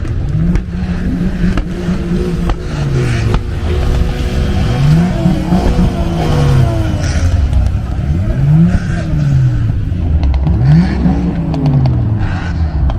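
Several performance cars, among them Mercedes C63s, V10 BMW M5s and Audi RS4s, rev their engines hard at a Father's Day rev-off car meet, loud overlapping rising and falling revs close by, with a steady engine roar underneath throughout.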